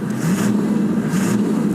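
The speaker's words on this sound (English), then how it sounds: "Engine runs perfectly well." A 1996 Toyota Land Cruiser engine idles loudly up close with a slight exhaust leak, its steady low rumble swelling in two brief revs.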